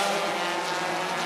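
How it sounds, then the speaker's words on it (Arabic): Small model race cars at an F1 in Schools competition event whir past in a steady, fairly loud engine-like whine with no talking over it. "إذا سامعين دحين في أصوات سيارات حواليا"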